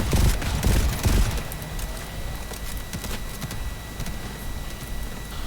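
Rapid gunfire from a sentry turret in the shooter game GTFO, a dense burst of loud close shots at the start thinning into scattered sporadic pops over a steady background.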